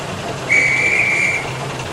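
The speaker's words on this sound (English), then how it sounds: "Then the guard's whistle blew" A single shrill railway guard's whistle blast, steady and piercing, lasting about a second over a low background rumble.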